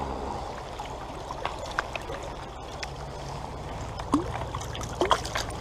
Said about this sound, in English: Really pretty brook.